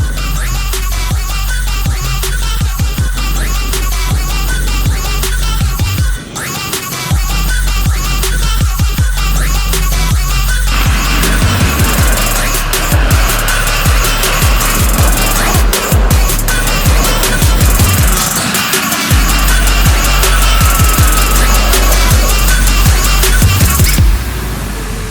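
A heavy Russian Kombat T-98 armored car drives hard and slides sideways, with a loud, steady roar of engine and tire noise close by that never lets up.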